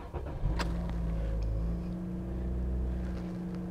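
A 2016 Scion iM pulls away from a start, its low engine rumble swelling briefly and then settling into a steady drone, heard from fairly close at moderate level with no talking.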